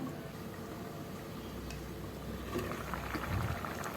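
Cucumber curry bubbling gently in a covered pot, a steady low simmer with soft liquid popping that swells slightly near the end, no voices.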